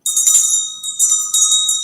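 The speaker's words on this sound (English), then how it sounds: "Every time somebody says, wow, I ring the bell" A small hand bell rings close and bright, shaken in about three quick bursts of high, shimmering chimes with no speech.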